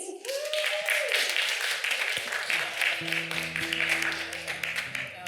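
Audience applause for poet Ashlee Haze, steady dense clapping across the whole stretch with a low tonal hum joining partway through, loud and continuous.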